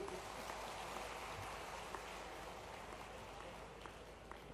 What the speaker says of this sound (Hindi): जोरदार ताली तो अच्छी बजना चाहिए करण सिंह जी के लिए।